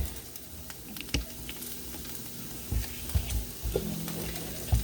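Sauce ingredients are stirred together in a small bowl, giving soft clinks and scraping taps over a faint background hiss.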